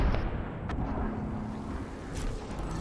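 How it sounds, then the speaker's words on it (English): Airstrike explosions in a shooter video game, a low continuous rumbling of distant blasts with a few sharper pops over the booming background. "Calling the airstrike."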